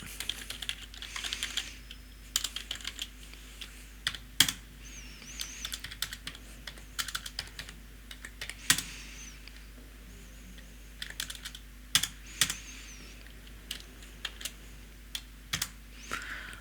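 Keys clicking on a computer keyboard while entering data into a Microsoft Access form, quiet irregular bursts of typing with scattered louder taps and short pauses, close and alone.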